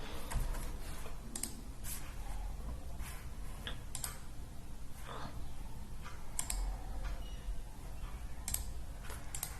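Computer keyboard keys pressed one at a time for Excel alignment shortcuts, a series of sharp, separate clicks at an irregular pace over a steady low room hum, with no talking.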